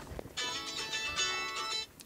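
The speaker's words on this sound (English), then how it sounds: "that's the phone" A telephone ringtone rings in a workshop, a steady patterned electronic ring of about one and a half seconds, fairly loud and heard alone without talk.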